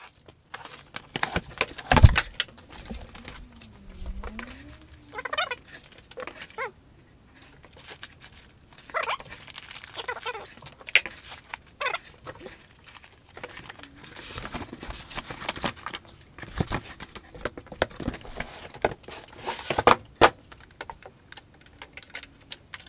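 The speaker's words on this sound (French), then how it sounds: "on va la déballer et on va découvrir ce kit" Creality Falcon 2 22W laser engraver kit being unboxed: irregular tapping, rustling and crinkling of packaging and parts, close-up with scattered sharper knocks and no talk.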